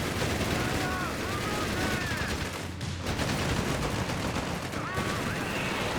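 Dense gunfire and rapid machine-gun bursts from a Company of Heroes 3 match, Wehrmacht against US Forces, loud and continuous with overlapping explosions throughout.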